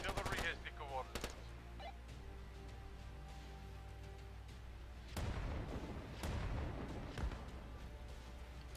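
Field artillery fire in the WWI/WWII game Warfare 1917-1944, a few distant sharp cracks early then heavier rumbling impacts later, fairly faint, with a voice talking at times.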